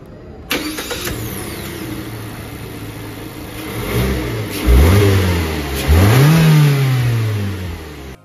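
A Mazda CX-3 Sport engine is started with the push button, cranking into a loud revving burst that settles, then two more throttle blips rise and fall close by with no talking.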